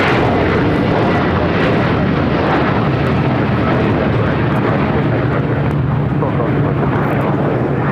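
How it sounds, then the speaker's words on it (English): Turkish Airlines Boeing 787-9 Dreamliner taking off at LAX, a very loud, close, sustained engine roar with heavy low rumble filling the whole span, voices faintly mixed in. "This is Turkish Airlines Flight 180 taking off to Istanbul on a 787-9 Dreamliner."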